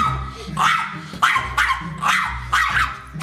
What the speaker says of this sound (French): on comprend mieux pourquoi les petits chiens aboient comme des dingues